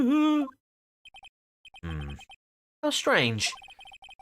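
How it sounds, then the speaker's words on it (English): A chirpy electronic phone ringtone from the Ace Attorney Justice For All video game plays in short blips and warbling tonal bursts, interrupted by a voice speaking briefly. "what is with this stupid sounding ringtone?"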